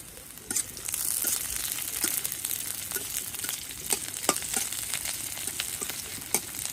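Garlic and onion fry in a pan with a steady close sizzle, broken by frequent stirring scrapes and crackles throughout.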